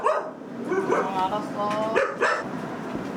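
Four small puppies yip and bark at home while being fed special holiday pet treats, short excited yelps scattered under a voice talking to them.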